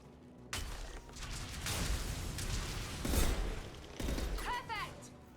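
Grenade blasts and gunfire from the video game Mass Effect: Legendary Edition, a run of loud booming explosions and crackling bursts with a whooshing sweep near the end, heavy and close, with speech mixed in.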